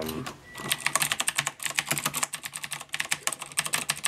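Fast typing on a Corsair mechanical keyboard with Cherry MX Blue switches and an aluminum base: a close, crisp stream of clicky keystrokes in quick irregular bursts.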